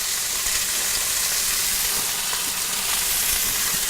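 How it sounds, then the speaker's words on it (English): Short ribs sear in a hot pan, giving off a constant, crackling sizzle and hiss that stays close and even throughout, with no talking over it. "You can hear those short ribs going."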